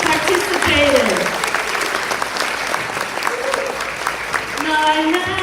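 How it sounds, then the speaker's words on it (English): Audience applause at the ARCSA gala for the Asian Festival Committee members, sustained clapping from a large crowd with a voice speaking over it, loud and continuous throughout. "give a round of applause to Asian Festival Committee members and everybody who participated"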